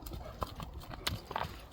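Horse hooves clip-clopping at close range, a few irregular knocking steps over a quiet outdoor background, faint overall.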